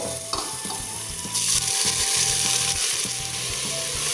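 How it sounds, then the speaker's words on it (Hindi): Chopped onions fry in hot oil in a pressure cooker with a steady, loud hiss that jumps up sharply partway through and holds, with faint stirring clinks. "प्याज को हमें अच्छे से ब्राउन होने तक फ्राई करना है"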